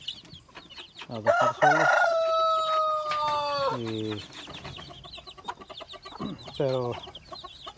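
A caged rooster lets out a long, loud crow among clucking hens and chicks, followed by shorter clucks and calls; someone speaks briefly near the start.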